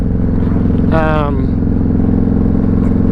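A motorcycle engine idles steadily and loudly nearby, holding a constant throbbing rumble throughout with a short rise in pitch near the start.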